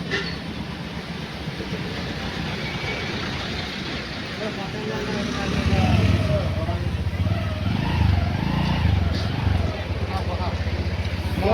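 A motorcycle engine rumbles low and steady while being ridden on a mountain road in Nepal, growing slightly louder midway, with people talking over the engine noise.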